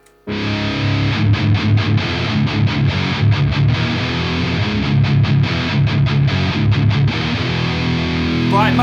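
An electric guitar plays heavy riffs through a Tomsline Plexion high gain distortion pedal in normal mode, loud and saturated, with chugging palm-muted rhythms and sustained chords, alone without talk.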